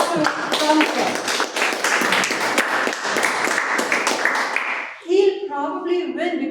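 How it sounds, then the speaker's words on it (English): Audience at a club meeting claps in a sustained round of applause for about five seconds, dense and fairly loud, then it stops and a voice speaks over the room. "Let's all give a round of applause to Thomas."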